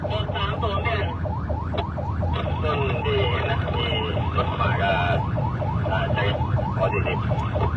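Emergency vehicle siren at a road accident scene in Thailand, a loud, close wail rising and falling in rapid repeated sweeps, continuous over traffic noise.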